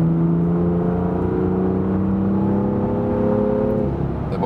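BMW M2 Coupé, 370 hp, accelerating in fifth gear from 100 to 150 km/h on the Autobahn in sport mode, heard from inside as a steady, rising engine drone with road and wind roar and no talking.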